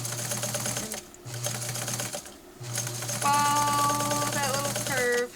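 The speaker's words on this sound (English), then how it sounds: "tuck that thread into that pressure foot. We're just going to come a needle width away." A sewing machine stitches a small outside curve a needle width from the edge, giving a steady mechanical whir in close runs broken by brief pauses.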